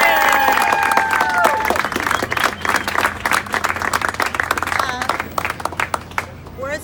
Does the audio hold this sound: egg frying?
no